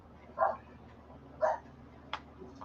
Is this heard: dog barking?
yes